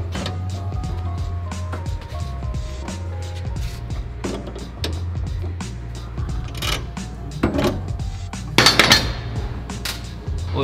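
Metallic clinks and taps of a socket wrench on a bolt of an AWD rotary drivetrain, irregular ratcheting and knocks over a low hum, with one sharper clatter near the end.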